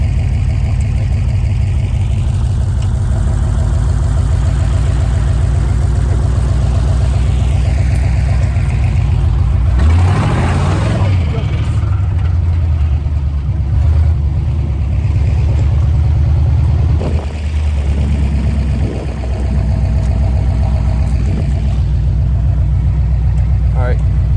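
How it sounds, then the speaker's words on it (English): A 1932 Chevy hot rod with an engine built in the 1960s, a loud, steady low rumble throughout as it drives, with a brief surge of revving and wind noise midway and people talking over it. "cruising around in the 32"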